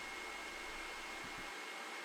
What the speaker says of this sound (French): Une fois le motif placé, on va venir le fixer au sèche-cheveux.